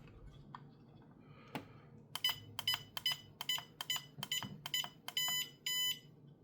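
An FMS Atlas 6x6 V2 RC truck's electronics emit a rapid run of sharp electronic beeps and clicks while its servo centers, a quick regular series of short tones up close with no talk.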